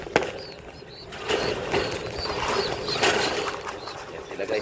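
Racing pigeons at a one-loft race facility in Jala Jala, Rizal, feed hungrily, a busy clatter of pecking and scattered wing flutters, moderately close, with a brief sharp knock at the start.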